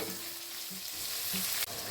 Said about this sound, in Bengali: পেঁয়াজটা ভাজতে ভাজতে আমি নুন দিয়ে দেবো